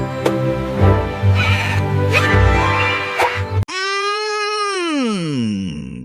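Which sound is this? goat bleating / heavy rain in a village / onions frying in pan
goat bleating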